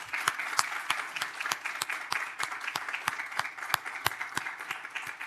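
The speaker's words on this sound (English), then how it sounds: "Let's give them both a big round of applause." An audience at a public award meeting gives steady, moderately loud applause, a dense even patter of many hands clapping that holds for several seconds.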